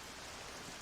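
Steady, faint rainfall in the video game Zelda: Wind Waker, a soft continuous hiss with no breaks or other sounds.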